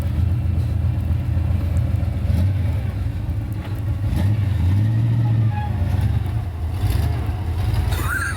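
A Chevrolet Suburban truck engine rumbles steadily while driving through snow, with a low, close drone that rises slightly in a few places.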